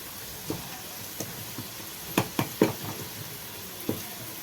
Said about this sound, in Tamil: இந்த பச்சை வாசம் போகிற அளவுக்கு லைட்டாக அப்படி கிளறி விட்டுட்டு